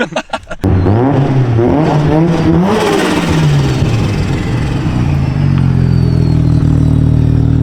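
A car engine fires up with a sharp start, then revs loudly and rises in pitch before settling to a deep, steady rumbling idle, close and alone.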